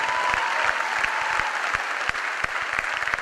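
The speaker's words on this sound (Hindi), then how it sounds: "इसके लिए भी तालियां बजा दिया करो" An audience at a stage event claps steadily and loudly, a dense round of applause with sharp individual claps standing out near the front.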